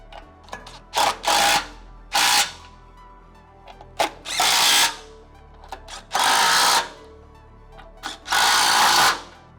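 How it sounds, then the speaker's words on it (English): Bolts with 17mm hex heads on the rock slider brackets of a Rivian R1T or R1S are torqued to 45 foot-pounds. Four loud, sustained bursts of tool noise come close by, separated by short sharp clicks. "We're gonna go ahead and torque these up to 45 foot-pounds."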